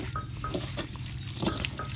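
Water poured while washing boiled apple snails outdoors in Rayong, Thailand, a soft continuous splashing and trickling of liquid with a few drips, moderately close.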